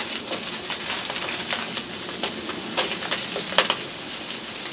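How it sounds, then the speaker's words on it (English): Potatoes frying in a pan over a folding firebox stove burning alternative fuel, a steady close sizzle scattered with sharp crackles and pops, no voices. "I'm just going to add some of these potatoes."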